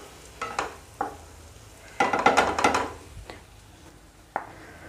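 A spoon stirs grated paneer mixture in a sizzling pan, with several separate scraping strokes and a denser burst of stirring in the middle over a quiet frying hiss.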